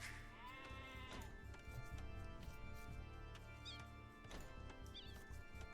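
In the Age of Empires strategy game, sheep bleat a few times in short, wavering calls over a steady bed of game ambience. No voices are present.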